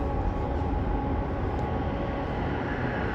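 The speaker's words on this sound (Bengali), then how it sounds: "ট্রেন চলে আসতেছে" Steady, loud rumble of a metro train arriving at a station on rails, a continuous low roar with broadband noise and no voices.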